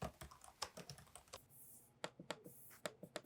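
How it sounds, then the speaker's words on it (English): Keys tapped on a Lenovo Legion 5 Pro laptop keyboard, quiet and close, in an irregular run of soft clicks with a short pause partway through. "Typing on the keyboard feels pretty average."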